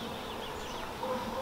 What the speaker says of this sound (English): They'll warn you by buzzing your face, buzzing your head, and they'll bump right into you like that.